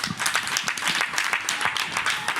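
A church congregation applauding and cheering for Jesus during a sermon, a dense, continuous patter of many hands clapping nearby with mixed voices.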